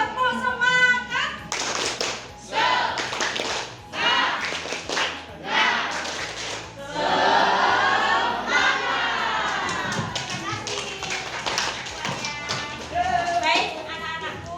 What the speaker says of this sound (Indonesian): Sebelumnya kita akan mengawali dengan tepuk semangat ya, biar semuanya bersemangat.